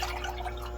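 Water poured into a jar of jalapeños for pickling makes a brief, soft dripping and filling sound close by, with no one speaking.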